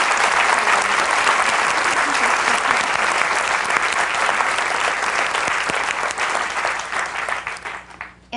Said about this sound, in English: can we give a hand of applause to our panelists?